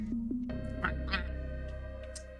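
A cartoonish duck quacks a few times in The Darkside Detective video game, short nasal calls over a sustained musical tone.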